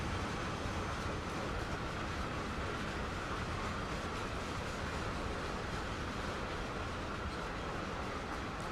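A video game freight locomotive hauling an auto rack train up a 1.5% incline labors steadily with a dense, constant engine roar and rumble, unbroken throughout, without voices.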